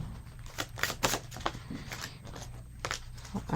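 Tarot cards being shuffled by hand, a run of quick crisp riffling snaps and flutters in uneven bursts, close and fairly quiet, with no talking.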